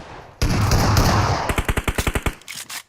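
Gunfire in the PUBG Mobile video game: a sustained loud automatic burst, then about ten sharp, evenly spaced single shots in quick rhythm, close and prominent with no talking.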